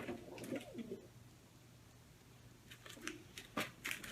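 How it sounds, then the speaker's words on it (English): A pet pigeon coos indoors in a few soft, low bursts, near and fairly quiet, with faint background noise between the calls. "Look, it's Remy the pigeon"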